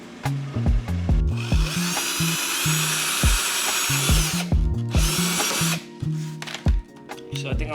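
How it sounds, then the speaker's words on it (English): A power drill bores holes for rear side splitters on a car, with repeated short whirring bursts that rise and stop, interspersed with clicks and knocks from handling, close and loud. "start drilling holes, and then we'll get to it."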